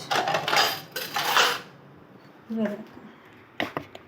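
Spoon clinking and scraping against a dish while scooping chutney, a few short close metallic taps and scrapes separated by pauses, with someone talking.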